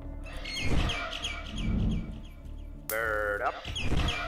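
Birds chirp in the Garten of Banban 6 video game, a quick run of bright repeated tweets followed by a brief warbling call, heard alongside game ambience and a voice talking.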